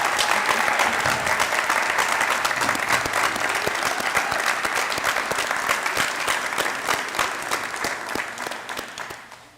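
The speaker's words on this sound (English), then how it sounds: "Gentlemen, stand up and let's give them a round of applause." A crowd gives dense, sustained applause for San Antonio Sports All-Star Football Game selectees at a high school bi-district playoff game, Cedar Park Timberwolves versus Smithson Valley. The clapping stays loud and steady for about nine seconds, then fades at the end.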